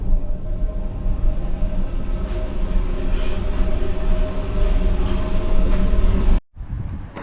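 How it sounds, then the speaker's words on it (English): A loud, rumbling train arrives at a station, rolling steadily with droning low tones and faint rattles, then the sound cuts off abruptly near the end. "So we're waiting for the train now."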